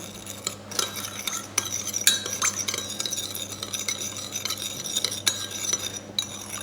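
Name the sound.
stirring salt into sauce for summer rolls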